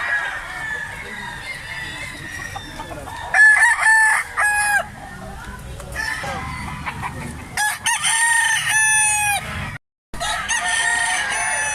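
Many gamefowl roosters crow repeatedly and loudly nearby, overlapping calls rising from a background of clucking farm birds, with a brief dropout near the end.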